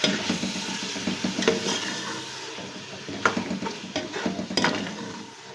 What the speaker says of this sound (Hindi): खड़े मसालों में मैंने लिया है तेज़पात, लौंग 3 से 4 अदद और दालचीनी के टुकड़े, ये हम इसमें ऐड कर देंगे और अच्छी तरह से मिक्स करेंगे।